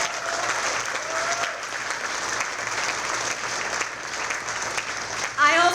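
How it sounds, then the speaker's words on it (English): Sustained applause from a crowd at an election night victory celebration in Glens Falls, steady clapping throughout that tapers as a voice begins at the end. "another round of applause for Dan."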